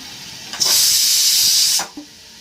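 Vegetables hit a hot pan and are stirred in a village kitchen, giving a sudden loud sizzling hiss that holds for about a second before dropping away, with no talking.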